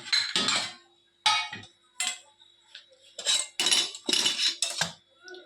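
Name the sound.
plate being prepared for dhokla, metal clinking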